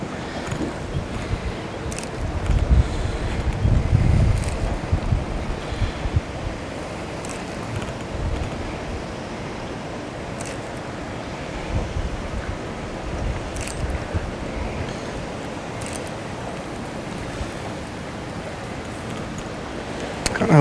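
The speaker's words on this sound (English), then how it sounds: "Kind of hoping the wind dies down a little bit" Steady wind roars across open water on a river during a fishing trip from a boat, with constant blustery buffeting and gusts swelling louder early on, no voices.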